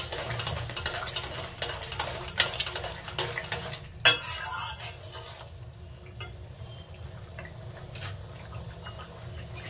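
A spoon scrapes and knocks in a pan of radish and fish curry with quick, uneven strokes over a low simmering bubble, then the stirring slows and goes quieter.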